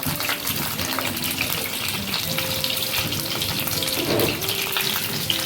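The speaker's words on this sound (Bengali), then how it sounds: "এবার হালকা নাড়াচাড়া করে নেব।" Pointed gourd and potato pieces frying in oil in a pan and being stirred, a dense continuous hiss and crackle that stays loud throughout, with a faint voice in the background.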